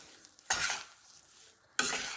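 Besan (gram flour) roasting in ghee in a pan, with two quick bursts of a spatula scraping and stirring it over a soft background sizzle.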